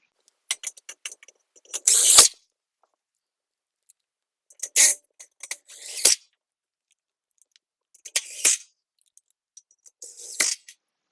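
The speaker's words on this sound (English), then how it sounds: "I'll now run my 4 attaching screws." Attaching screws driven into a metal flex post, four separate bursts of whirring and grinding with short clicks and pauses between them, close and crisp.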